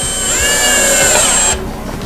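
A power drill drives a self-tapping screw into a wooden wine bar top, a loud close whine that rises in pitch as the screw bites, then stops abruptly, leaving quiet shop room tone.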